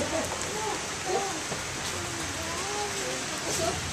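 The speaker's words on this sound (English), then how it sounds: "Into the pouring rain." Heavy rain pours down steadily on a street as a constant hiss, with scattered voices of a group of children heard through it.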